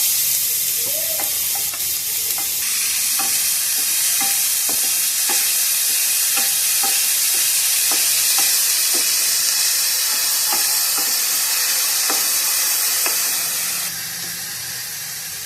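Onions frying steadily in a pan for homemade momos, a dense continuous sizzle with repeated soft scrapes and taps of stirring, close and loud, with no talking.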